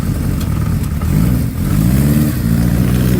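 A Honda CB 550 motorcycle engine runs close by with a throaty, steady exhaust note and a slight rise in revs partway through, loud and continuous with no talking.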